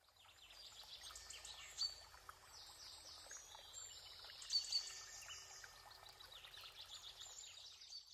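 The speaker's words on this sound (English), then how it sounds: "quail," Quail calling amid a dense chorus of high chirps and trills over soft running-water noise, with two brief louder notes standing out, and no speech.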